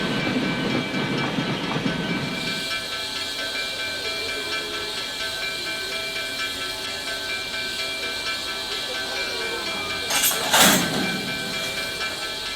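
Locomotive number 13 creeps through a rail yard toward its train, with a sustained steam hiss and a soft clank of wheels, steady and fairly close, then a short louder burst of steam near the end.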